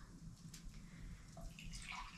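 Water pouring into a glass beside a hearth, a soft, quiet trickle and splash lasting about two seconds over low room noise.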